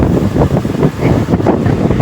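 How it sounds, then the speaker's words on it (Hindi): Strong gusting wind roars into the microphone outdoors during a stormy bike ride, a loud continuous low rumble that swells and dips, with no speech. "कितनी तेज़ हवा चल रही है।"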